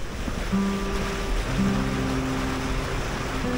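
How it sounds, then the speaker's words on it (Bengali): Strong river waves on the Matla River in the Sundarbans surge and splash against a moving launch boat, with a steady engine drone and wind rushing past. "আর দেখো প্রচণ্ড ঢেউ রয়েছে কিন্তু"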